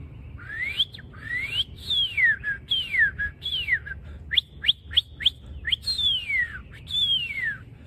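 A man whistles an imitation of a northern cardinal's song: clear, slurred whistles that sweep down and up, repeated in phrases with a quick run of sharp chirped notes in the middle, close and fairly loud over faint low background rumble.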